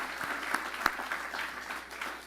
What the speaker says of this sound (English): One more clap for all those folks